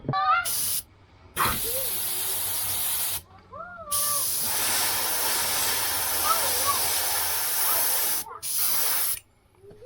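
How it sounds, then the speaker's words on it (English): Bursts of spray paint hiss as black paint is sprayed onto a tail spinner fishing lure, several close, loud sprays with short pauses between them and faint speech-like tones underneath. "I'm going to spray the top one more time with the black"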